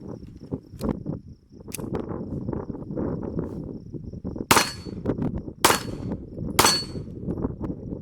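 Smith & Wesson M&P 2.0 Competitor pistol firing Federal 115 grain range ammo outdoors on a windy day: three sharp, loud shots spaced about a second apart after a stretch of wind and rustling.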